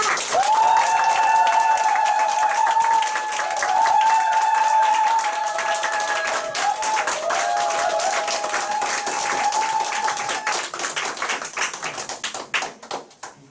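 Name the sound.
big applause welcoming speaker Yoon Seo-young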